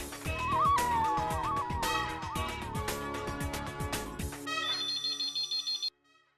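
A telephone's ringing tone plays from an outgoing call, a loud electronic ringtone melody with pulsing beeps that stops abruptly near the end, with no voices.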